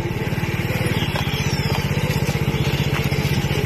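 A habal-habal motorcycle taxi carries riders while its small engine drones in a steady, rapid putter, close and moderately loud. The wind and road noise stay constant the whole time.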